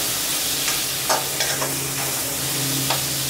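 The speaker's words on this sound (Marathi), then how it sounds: "आणि थोडीशी कोथिंबीर आता टाकते आणि छानपैकी हे मिक्स करून घेऊया।" A spoon stirs chopped fried potatoes and coriander through a sizzling masoor gravy, with soft scraping strokes over a constant hiss of frying, close and alone.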